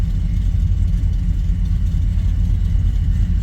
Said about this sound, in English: There's some pretty quick looking trucks in this class.